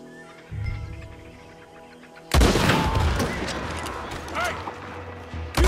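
Gunfire in the Western video game Red Dead Redemption 2 erupts after a quieter stretch, a loud burst of shots with booming echoes followed by further scattered reports and background game sound.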